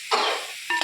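Onion masala for ginger-garlic chicken curry sizzles in a pan as it is stirred, with two bursts of close, scraping stirring over a steady frying hiss.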